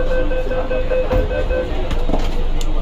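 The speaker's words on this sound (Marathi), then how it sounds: "आज पहिल्यांदा मेट्रोचा प्रवास केला" A Mumbai metro train running, with a loud steady rumble of the carriage and faint clicks of wheels on track, while people talk in the background.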